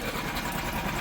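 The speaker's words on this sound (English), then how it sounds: "Taken the fuel pipe off to let the engine run out of fuel." An outboard boat engine idles steadily while being flushed, with its fuel pipe removed so it runs out of fuel, giving a close, even mechanical drone with no talk.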